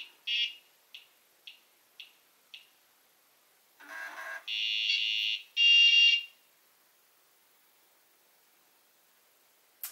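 A Gotek floppy emulator drive on an Amiga, running HxC or FlashFloppy firmware with the sound mod, makes five short, sharp buzzes, then a rougher burst, then two loud sustained buzzes, heard close and alone.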